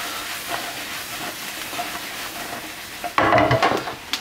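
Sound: mushrooms frying in a pan

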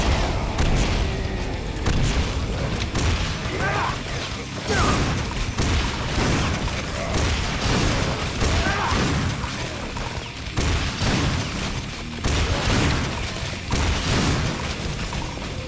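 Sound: rocket explosions in video game Painkiller

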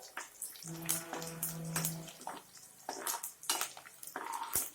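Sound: stirring garlic frying in a pan

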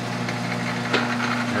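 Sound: lathe cutting square threads

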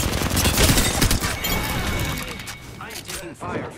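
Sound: gunfire aimed at player in a video game

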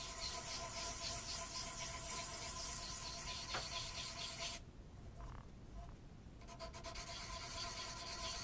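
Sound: sanding wood on rifle stock

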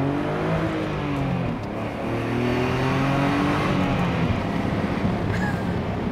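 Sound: BMW E34 525i accelerating from standstill

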